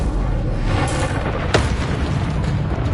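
Incendio fire spell cast in the game Hogwarts Legacy, a loud rumbling burst of flame with a sharp crackling hit near the middle, heard up close over continuous booming game noise.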